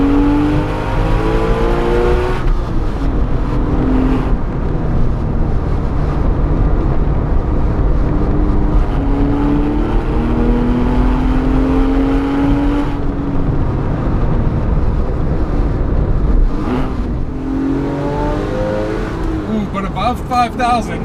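A Porsche sports car engine revving high in the upper rpm range, a loud continuous engine note rising and falling in pitch as it climbs through the revs, with someone talking over it.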